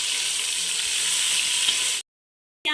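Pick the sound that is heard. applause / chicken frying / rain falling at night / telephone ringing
chicken frying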